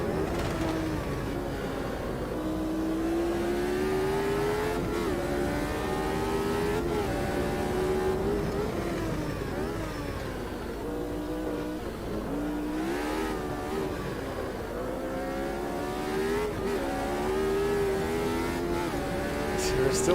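A Brabham BT46 Formula 1 car in the racing game Automobilista 2 sends out a continuous, loud engine whine that climbs and drops through gear changes as it laps, with faint talk underneath.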